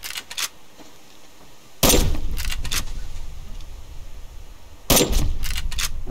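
Two loud gunshots from a hunting weapon fired at a bear in the survival game Subsistence, each a sharp crack with a trailing echo, about three seconds apart, with faint clicks between them.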